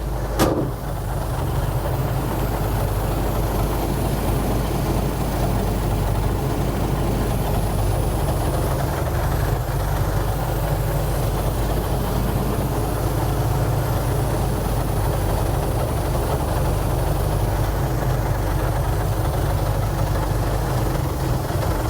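A 5-ton military truck engine idles with a deep, steady low rumble while the truck is put in gear and rolls forward, continuous and close with no talk.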